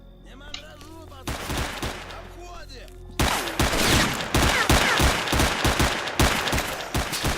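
Pistol fire in the shooter game Stalker, with rapid repeated sharp cracks and loud bursts of gunfire over a busy, dense soundscape, louder in the second half.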